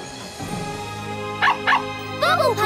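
A cartoon dog called Bubble Puppy gives three quick high yips and barks in the final second, heard over a sustained musical score with no talking.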